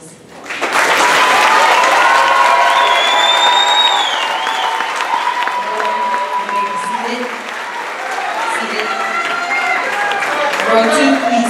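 Sustained applause from an audience at a school promotion ceremony, a dense wash of clapping filling the room, with a voice speaking over it partway through.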